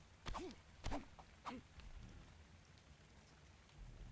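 Rain in Ark Survival Evolved falls as a quiet, steady patter, with a few sharp thuds near the start and a faint low rumble underneath.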